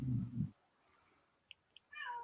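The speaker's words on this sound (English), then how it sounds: "This cat loves me, man." A domestic cat meows twice indoors, a near, moderately loud meow at the start and another at the end, with a couple of faint soft ticks in the quiet between.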